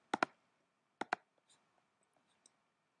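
A computer mouse gives two quick double clicks about a second apart, crisp and close, followed by a few faint, scattered ticks in a quiet room.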